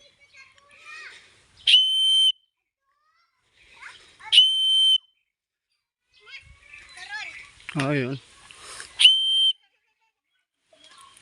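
A person whistles to call animals, loud, sharp whistles ringing out four times at intervals, with brief speech and a wavering call between them.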